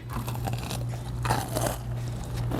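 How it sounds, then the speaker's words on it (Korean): Crisp crunching bites into deep-fried Dokdo shrimp tempura, several close, loud crackly crunches in quick succession with chewing between them and no talk over them. "튀기니까 소리부터 맛있다. 씹자마자 바삭 하는 소리가 음, 음. 너무 맛있게 들리는데요?"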